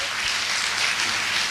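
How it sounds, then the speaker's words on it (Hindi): Sustained applause from a seminar audience honoring a late network marketing leader, a dense, steady wash of clapping at even loudness throughout. "उनकी तालियां होनी चाहिए"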